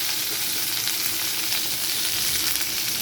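Garlic, chilli, ginger, turmeric and onion fry in a pan with a dense, steady hiss and crackle, close and even throughout, with no voices.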